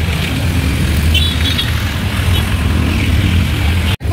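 Evening road traffic on a busy street, a steady close rumble of car and motorbike engines idling and passing, loud and continuous with no voices, cut by a brief dropout near the end.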